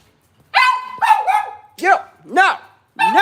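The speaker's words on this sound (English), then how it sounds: "Stop barking!" Several loud, close dog barks and yips in quick, uneven bursts, high and sharp, with short pauses between them.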